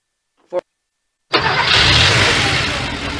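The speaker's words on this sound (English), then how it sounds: "That's the sound of an engine running on the strength of Castrol Edge." A car engine cranks and fires up after a short click, then settles into a loud, steady running drone that slowly eases off.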